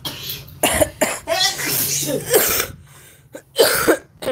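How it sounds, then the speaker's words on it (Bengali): A series of harsh, hacking coughs comes in close, separate bursts with short pauses between them over a few seconds. "সবারই কাশি হচ্ছে মানে খ্যাকর খ্যাকর করে যাচ্ছে না"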